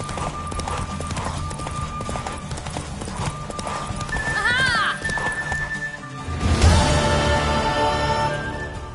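Rhythmic hoofbeats of a horse clip-clopping at a steady gallop in The Witcher 3, with a whinny midway, set against game music and some talk.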